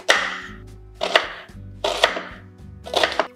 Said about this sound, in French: Et on le hache. On peut le hacher grossièrement